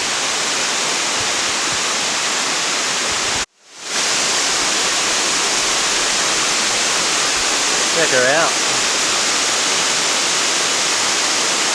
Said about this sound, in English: we're going to go have a look at Allinger Falls